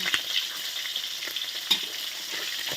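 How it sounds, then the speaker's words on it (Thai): Three small mackerel fry in hot oil with a continuous bright sizzle and a few soft crackles and pops, close and alone, with no voices. "ทอดปลาทูสามตัวได้จ้า"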